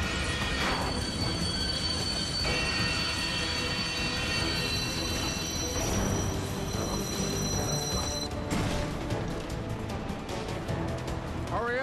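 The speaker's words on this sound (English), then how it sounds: "They haven't finished building the track this train is on." A train rolls along unfinished track in The Lego Movie video game, a steady loud rumble with shrill wheel squeals and metallic clatter running throughout, accompanied by game music.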